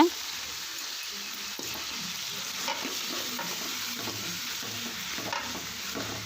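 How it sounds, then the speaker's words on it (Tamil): Chicken pieces frying and being stirred in a pan for a spicy chicken gravy, a steady close sizzle with scraping stir strokes and clinks throughout, no talking. "நல்லா இந்த அளவு நல்லா ஃப்ரை பண்ணி விடுங்க"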